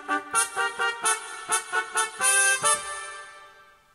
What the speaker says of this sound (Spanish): Y las dos trompetas suenan así.